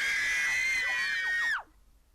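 A video game plays a loud, shrill scream from children and an adult together, holding high and strained before sliding downward and cutting off abruptly into near silence.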